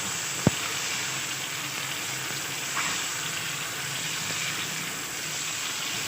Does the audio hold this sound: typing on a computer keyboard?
no